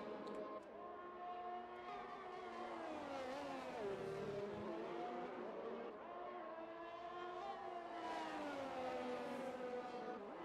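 Race car engine in a racing video game, a loud, steady high-revving whine that rises and falls in pitch as the car slings through a chicane, continuous for the whole stretch.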